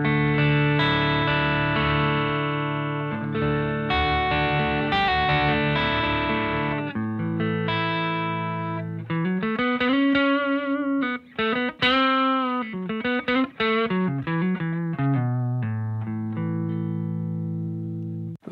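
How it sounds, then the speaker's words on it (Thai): A Suhr electric guitar on its neck humbucker plays through a cranked single-channel Plexi-style amp, starting with sustained distorted chords and moving into bent lead notes that continue without pause. "อันนี้เป็นปิกอัพตัวเน็กนะครับฮัมบักเกอร์"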